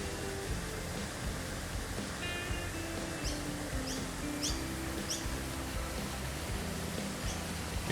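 Large-beaked birds call by the water at the seaside in Brisbane: a run of faint, high chirps over a steady wash of surf-like background noise.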